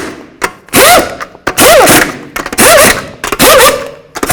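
Pneumatic impact wrench running down lug nuts on a Ford Edge wheel, four loud, close bursts of hammering rattle, each about a second long and separated by short pauses.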